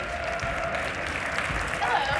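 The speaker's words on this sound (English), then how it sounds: "her a round of applause" A conference audience at the Nordic Business Forum 2025 applauds a speaker on the main stage: a steady, dense wash of clapping that holds at an even level throughout, with some voices mixed in.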